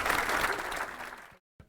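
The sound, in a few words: audience applause for a woman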